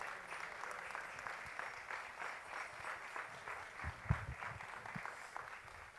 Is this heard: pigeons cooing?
no